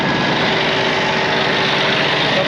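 A farm tractor engine idles loudly and steadily up close, with a constant even rumble and no other sounds or voices over it.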